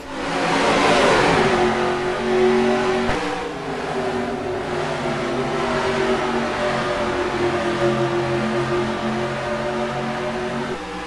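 Race trucks roar off the line at the start of a truck series race at Pikes Peak in NASCAR Racing 2003. The engines give a loud, layered revving that eases a little, then holds as a steady drone.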